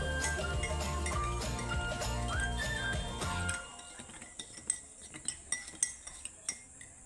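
A spoon stirring sweetened milk coffee in a cup. Busy clinking comes first under background sound, then the background drops away and the metal taps against the cup stand out alone at a close, uneven pace.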